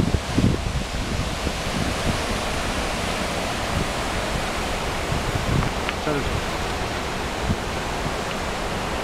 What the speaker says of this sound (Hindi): इधर ही पानी, ये इधर ही बह रहा है